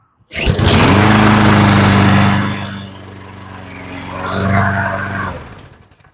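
A Craftsman lawn mower's small engine sputters to life on the first pull and runs with a loud, steady drone, then dips and surges a little before cutting off.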